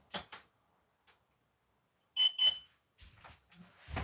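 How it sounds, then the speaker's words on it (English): An alarm sounds two quick beeping bursts close to the mic, separated by stretches of near silence, with some faint rustling and handling noise around them. "So I have to turn the alarm off. It just keeps going off."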